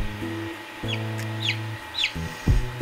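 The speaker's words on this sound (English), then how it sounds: "Very beautiful chicks." Young chickens of black and silver partridge colouring make soft clucks and a few high chirps, close and fairly quiet, with short pauses between the calls.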